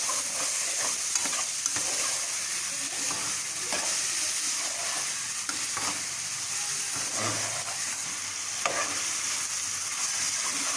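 Capsicum frying in a pan with tomatoes for a samosa filling over a medium flame: a steady close sizzle with scattered stirring scrapes and clicks throughout, with no talk.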